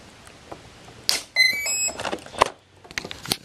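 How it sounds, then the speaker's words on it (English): Short electronic beeps sound in a quick sequence from a powered-up foam 70mm EDF model jet, fairly clear against quiet background clicks and handling noise. "You got some beeps and things going on."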